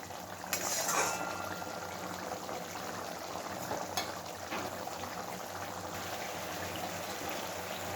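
Paneer curry in yogurt gravy bubbling in a pan, a soft continuous simmering hiss with faint popping and a brief utensil clink early on, fairly quiet and with no voices.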